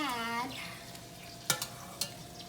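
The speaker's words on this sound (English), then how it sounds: "broth and continue stirring" Risotto rice is stirred in a pan with broth, giving soft scraping and a faint simmer punctuated by a few sharp spoon clinks against the pot, after a brief voice at the start.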